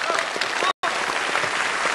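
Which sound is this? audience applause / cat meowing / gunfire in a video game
audience applause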